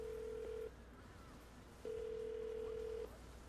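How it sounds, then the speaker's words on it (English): A telephone call is placed and the line answers with a steady single-pitch tone in two bursts, a short one and then a longer one after a pause of about a second, with light background hiss. "I'm gonna dial her phone number right now and see if we can get her on the phone"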